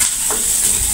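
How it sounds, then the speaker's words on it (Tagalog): Onions sautéing in a pan give a close, steady sizzle and hiss lasting about a second. "Tamang gisa lang, di ba?"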